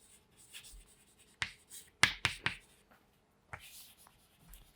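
Writing by hand on a surface during a biology lesson: quiet scratchy strokes and a few sharp taps cluster in the middle, with faint stroke noise before and after in an otherwise quiet room.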